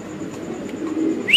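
Pet pigeons coo softly in a low, continuous murmur, close by, with a brief brighter chirp at the end.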